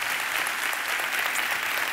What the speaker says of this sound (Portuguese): E vamos aplaudindo, que é muito lindo, pessoal.